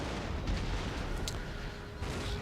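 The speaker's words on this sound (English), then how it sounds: "cannons shooting as well" Cannon fire in a battle of the strategy game Empire: Total War, a steady rumbling barrage of low booms with a sharper report near the middle, heard alone without voices.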